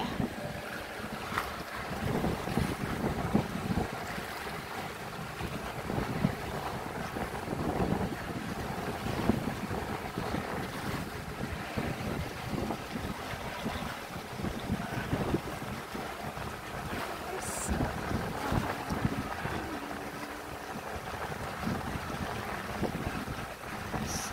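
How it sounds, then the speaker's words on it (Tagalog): Steady, blustery wind roars across the microphone by the shore, with waves washing underneath throughout and no voices. "Maalon-alon siya kasi mahangin."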